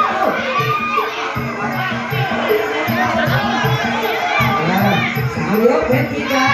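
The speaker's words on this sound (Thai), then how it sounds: "ขอบคุณแฟนมวยเชียร์มวยรักทุกท่านและกำลังใจสุดดาวรุ่งของตาเบลล์ของเรา" A crowd of fans cheers and shouts at a Thai boxing bout featuring women fighters, a dense steady roar of many voices close around, rising and swelling throughout with excited yells.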